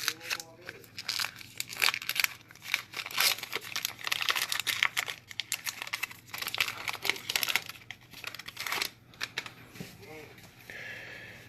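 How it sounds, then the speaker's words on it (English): Foil wrapper of a 2019 Topps Heritage baseball card pack being torn open and crinkled up close, a steady run of crackling rustles across the whole stretch with brief sniffs and movement in between. "Rip into pack 4."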